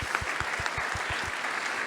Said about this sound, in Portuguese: Palmas para vocês também.